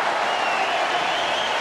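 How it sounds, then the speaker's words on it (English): Rugby crowd at an Ospreys versus Scarlets derby erupting in a sustained, dense roar of cheering and applause, loud and continuous with no break. "The crowd go berserk."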